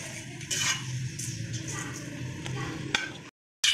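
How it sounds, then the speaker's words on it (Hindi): Radish-stuffed paratha roasting on a hot griddle gives a soft continuous sizzle with a few scraping stir sounds and light clicks, close and moderately loud, before a brief cut to silence. "इसी तरह हम पराठे सेक लेंगे"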